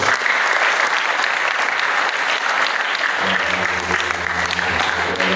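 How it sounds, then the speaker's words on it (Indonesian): An audience at an Islamic boarding school gathering applauds loudly and steadily, and partway through a low amplified tone or music begins beneath the continuing clapping. "Tepuk tangan buat beliau semuanya."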